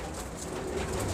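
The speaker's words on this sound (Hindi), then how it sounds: "ये हरा कबूतर है" A green pigeon coos steadily at close range, a soft, low, continuous murmur running through the whole moment with no voices.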